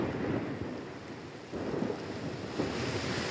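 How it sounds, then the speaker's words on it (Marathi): Thunder rumbles low and continuous through heavy rain during a windy storm in Pune, with a steady downpour hiss and no voices. "ढगांचा आणि विजांचा कडकडाट ऐकू शकतोय आपण"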